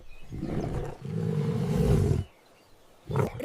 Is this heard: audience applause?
no